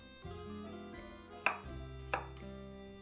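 Waxy potatoes being chopped into chunks for Mafé peanut butter chicken: two distinct knife strikes on a board, close and fairly quiet, with a low background hum and no talking.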